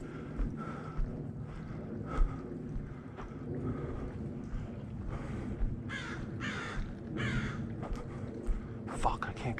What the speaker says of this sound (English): those are just normal crows